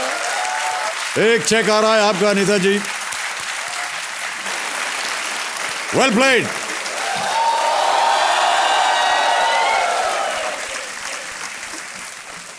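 Studio audience on a Hindi TV quiz show applauds after the host speaks, a swelling round of clapping that builds mid-way and then fades out, with the host's voice heard before and during it.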